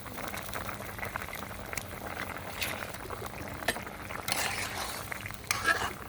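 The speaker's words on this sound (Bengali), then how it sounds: "সবজিটি বলক এসেছে, এখন আমি মাছ দিয়ে দিব।" Fish going into a boiling vegetable curry of ডাঁটা and potol in a pot, with steady bubbling and simmering close by, broken by a few light clinks and scrapes of utensils.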